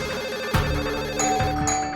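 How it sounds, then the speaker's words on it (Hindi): A telephone rings with bright, electronic trilling tones, two ring bursts close and clear. "तब तक फोन की घंटी बजने लगी"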